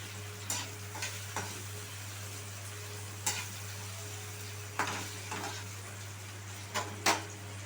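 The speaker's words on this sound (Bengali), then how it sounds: "ব্রাউন করে ভেজে নিচ্ছি।" Onions frying in a pan to light brown for a capsicum potato dopiyaza: a soft, steady sizzle broken by occasional sharp spatula scrapes and taps against the pan.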